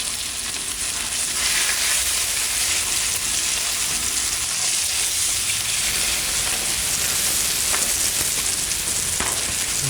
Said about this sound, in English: Going pretty heavy on the oil. It's just kind of like a shallow fry.